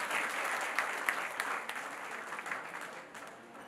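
Audience applause fills a women's mission state conference hall, a steady burst of many hands clapping that gradually tapers off over a few seconds, with no voices over it.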